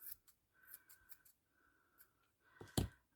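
Scissors trim nylon strip fabric for a headband up close: a run of soft, quick snips, then a pause and one sharper, louder cut near the end.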